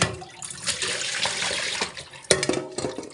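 Tap water runs steadily over beef being rinsed for nilaga in a sink, with splashing and handling noises and a sharp knock near the end.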